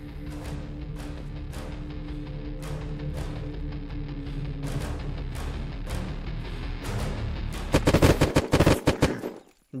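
Heartbreaker gunfire in Unturned: a string of sharp shots spaced about a second apart, then a rapid, louder burst of automatic fire near the end, all close and prominent with no talking.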